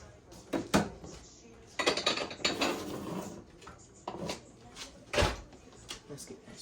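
A spoon works butter into cooking rice in a pot, giving scattered metallic scrapes and a few sharper clanks against the pot's sides amid quieter pauses.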